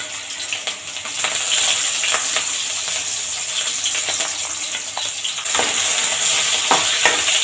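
Ginger and garlic fry in hot oil for a quick pasta, giving a steady close sizzle with occasional stirring clatter and crackle across the whole stretch.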